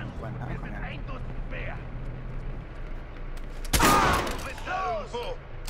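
Gunfire breaks out in the video game Watch Dogs, a sharp, loud burst of shots after a stretch of low background noise, with someone talking over the game audio.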